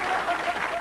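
Audience applause and some light laughter fill a live magic show just after a card trick, steady and close for under a second.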